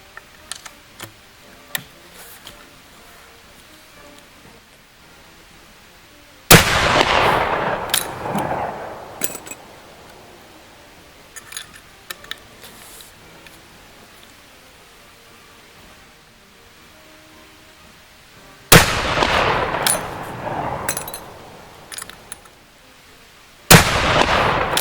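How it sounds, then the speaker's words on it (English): A Martini-Henry Mk I rifle fires .451 tapered service bullets in paper-patch cartridges, heard as two loud, sharp reports about twelve seconds apart, each trailing off in a rumbling echo, then a third shot at the very end, with quiet clicks between. "This group's going to be shot with the .451 tapered service bullet."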